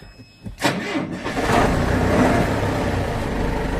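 A loader's engine turns over briefly on a cold day, catches after about half a second, and settles into a loud, steady close-up running rumble.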